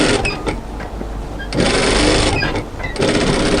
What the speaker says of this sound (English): So stitch your first line of stitching through that overlocking line